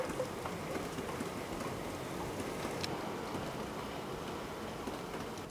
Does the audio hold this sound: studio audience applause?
no